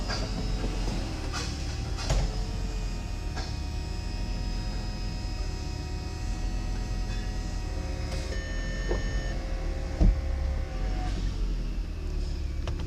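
The convertible top of a gated six-speed Lamborghini Gallardo lowers into its tonneau area, a steady mechanical whir and hum running throughout with faint clicks and one sharper knock near the end.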